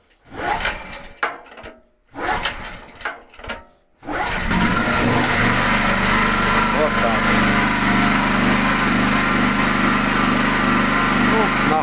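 A small engine running on gas rather than petrol being pull-started: several short rough bursts from cord pulls, then the engine catches at about four seconds and runs steadily at a loud, high-pitched idle to the end.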